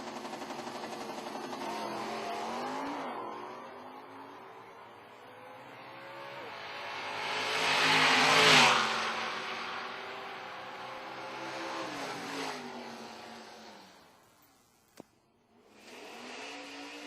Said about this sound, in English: First gen, fourth gen Camaros squaring off here in first round of eliminations for stock.